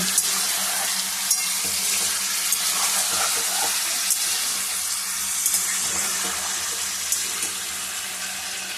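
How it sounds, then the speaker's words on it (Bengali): Fish, rinsed in hot water, sizzles steadily in a hot pan of oil during home cooking of a Bengali chicken curry meal, a continuous loud crackle with occasional sharp pops and faint clinks. "মাছটাকে একটু ভেজে নিচ্ছি গরম জলে ধুয়ে।"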